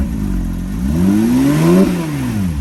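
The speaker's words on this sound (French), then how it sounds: "Je vais vous faire écouter un petit peu le son moteur." A high-end car costing about 250,000 euros revs hard with its exhaust valve open, the engine note climbing and then dropping back. The sound is loud, close and steady, with no talking.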